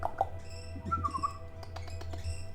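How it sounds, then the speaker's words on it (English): A pet bird gives short chirps and a brief whistled, beep-like call. The calls are fairly near and light, over a steady low hum in a quiet indoor room. "My bird is beeping nicely."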